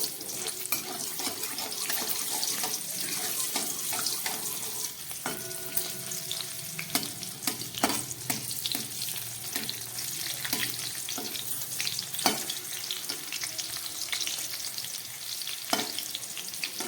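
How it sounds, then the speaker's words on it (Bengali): Fresh green chillies fry in hot oil in a pan for chilli paneer, a continuous crackling sizzle with scattered spoon taps and scrapes, moderately quiet and close. "লঙ্কাটাকে আমি হালকা করে কাঁচা লঙ্কাটাকে ভেজে তুলে রাখবো"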